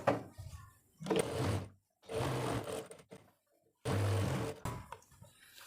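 A sewing machine stitching fabric for the pocket of a plazo pant, running in several loud bursts of about a second each, separated by short pauses.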